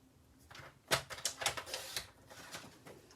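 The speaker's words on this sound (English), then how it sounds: "I'm going to cut it down just a little bit." A small paper scrap is cut down to about two inches for a slimline penguin card, giving a quick run of crisp, close snipping clicks, quiet and alone without talk.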